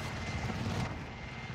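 A helicopter in the video game Warzone produces a faint, rumbling rotor and engine drone that fades after the first second.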